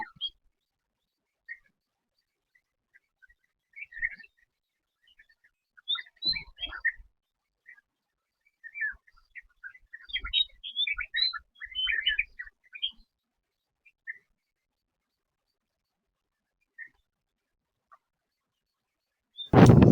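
Scattered bird chirps and tweets sound along a quiet village road with no traffic, coming in intermittent clusters at moderate distance over near-silence, ending in a sudden loud rustle.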